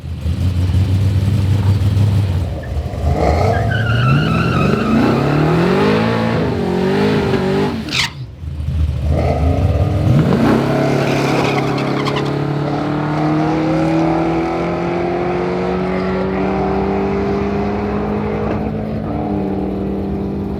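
A drag race car launches flat-footed down the quarter mile, engine roaring loud and close with rising revs through the gears, a brief gap at a shift near the middle, then a long steady pull as it accelerates away.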